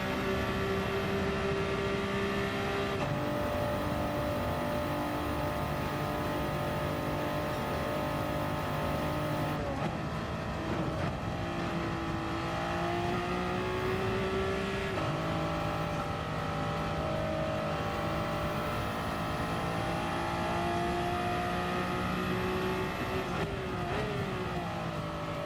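Race cars scream around Watkins Glen in a racing video game, engines droning and shifting pitch nonstop at high revs, with a Bugatti among them, loud and close throughout without any talk.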